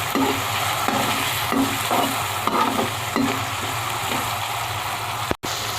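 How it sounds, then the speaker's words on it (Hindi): Chicken pieces fry in a pan with a loud, continuous sizzle and rhythmic stirring scrapes, heard close and without speech, ending in a sudden brief drop-out. "और ये चिकन को हम थोड़ा सा फ्राई कर लेंगे, ये वाइट सा हो जाए।"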